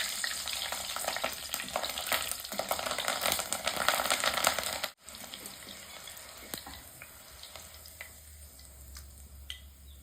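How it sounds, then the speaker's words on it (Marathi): Green chillies fry in hot oil in a pan over a village wood-fired stove, a dense steady sizzle that runs loud for several seconds, drops off abruptly, then continues more softly with a few faint clinks. "मिरची तळून घ्यायची आहे।"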